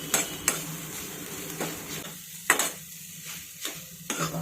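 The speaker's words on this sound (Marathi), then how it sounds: "1 मिनिटभर आपण तुपामध्ये चपातीचा चुरा हा परतून घेणार आहोत" Crumbled leftover chapati being stirred in ghee in a pan over a low flame, with intermittent scraping and clinking of a spoon against the pan over a soft sizzle, several distinct knocks spaced through the stretch.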